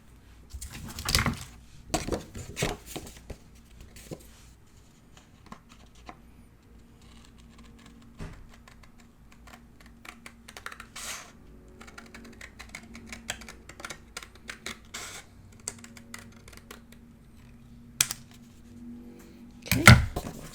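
Scissors cut through paper for a mini album in soft, irregular snips and rustles, quiet and close, with occasional louder clicks and handling noises.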